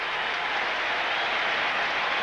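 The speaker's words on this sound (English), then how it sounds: "Crowd already applauding for Spencer, though." A baseball stadium crowd at a 1998 MLB game, Mets at San Diego, applauds in a steady, dense wash of clapping that fills the whole short stretch at even loudness.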